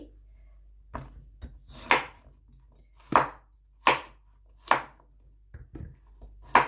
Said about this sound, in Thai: แล้วเราก็หั่นเป็นชิ้น ๆ นี่